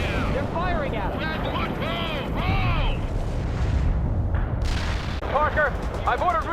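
Gunfire and artillery fire in World in Conflict, a busy battlefield of booms and shots mixed with frequent radio-style voice chatter throughout.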